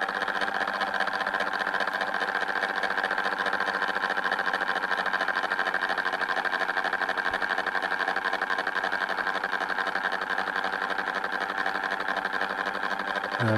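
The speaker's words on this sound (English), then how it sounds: "I'm adjusting the motor speed to see if I can get something a little bit more pattern-ish." Steady whirring hum of the motor spinning the disc in a homemade mechanical TV set, a continuous mid-pitched drone with a buzzy, sewing-machine-like texture that holds constant throughout, close and alone.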